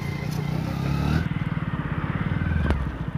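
A Hero Splendor BS6 100cc motorcycle runs close by after its second service, its small engine putting out a steady, pulsing putter that shifts slightly in pitch as it rides.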